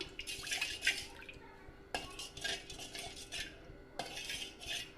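A spoon stirs a powdered mixture in a pot heating on a stove, giving repeated metallic scrapes and clinks in short bursts, close and fairly clear, with no talking.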